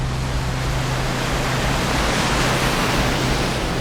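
Standing inside the cascade of a waterfall in Ireland: a loud, dense, unbroken roar of falling water with a low rumble, constant throughout and without voices.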